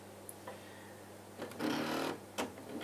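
A sewing machine fitted with a hemstitch needle stitches fabric in a short, quiet run of whirring, then a brief second burst over a faint, low background hum.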